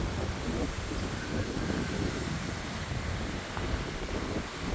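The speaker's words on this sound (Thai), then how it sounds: "ลมแรงมากเลย" Strong wind blows outdoors beside a 12-wheel UD truck, a constant, faint broadband roar that buffets the microphone with no clear break.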